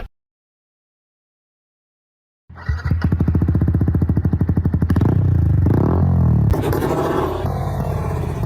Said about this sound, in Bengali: মোটর সাইকেলটা নিয়ে বেরিয়ে চলো।